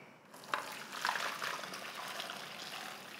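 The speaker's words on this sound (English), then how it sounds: "I'm now going to strain this off" Boiled edamame strained off, the cooking water pouring and trickling steadily through a strainer, moderately near and fairly quiet, with a few small splashes and no talking.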